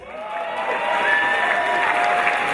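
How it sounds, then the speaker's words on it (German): Sustained applause from a crowd at a mountain bike world games awards ceremony, dense clapping building slightly and continuing throughout with faint cheering. "nicht nachlassen mit dem Applaus"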